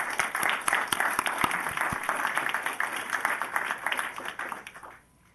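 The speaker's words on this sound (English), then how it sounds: "Please join me in applauding their efforts." Applause from the audience at a Rockville city council meeting, honoring the mayor, council and city employees: dense clapping that holds steady for about five seconds, then stops abruptly into near silence.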